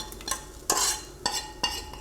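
Cooked onions go into a pot and are stirred while making a vegetarian mushroom and zucchini lasagna, giving a few sharp scraping, clattering strokes of a utensil against the pot amid a faint background hum, with no speech.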